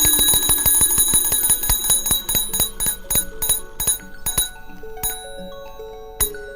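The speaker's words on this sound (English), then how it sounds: "releases a ball and triggers a bell" Bell of an early electric telegraph signalling mechanism, struck repeatedly in a fast, regular series of bright metallic rings that slow and thin out, with long ringing tones near the end.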